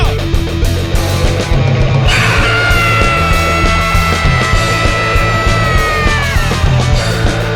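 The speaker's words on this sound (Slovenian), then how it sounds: "Kričijo!" Crowd screaming and yelling at a loud live event in Kočevje, sustained raw shouts layered over a thumping, droning backdrop, with one piercing wavering scream standing out in the middle.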